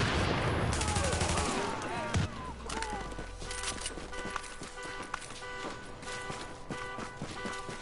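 Gunfire in Tom Clancy's The Division, with loud close shots and rapid bursts in the opening seconds, followed by scattered sharp cracks and clatter, while someone talks over much of it.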